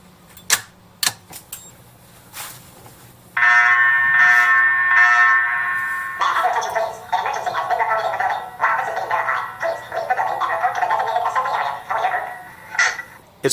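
Alarm system test: a steady electronic alarm tone sounds loudly for a few seconds, then shifts into a pulsing, warbling alarm pattern, preceded by a few sharp clicks.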